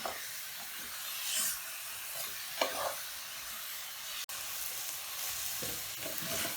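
Chicken being stirred with a spoon in a frying pan, soft scraping strokes over a steady sizzle, with a few sharper clinks of the spoon against the pan.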